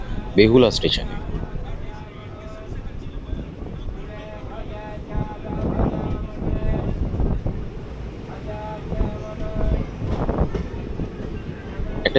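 A passenger train rumbles along the rails through open farm fields in West Bengal toward Guptipara station, a continuous rattling drone with wind buffeting and voices talking over it.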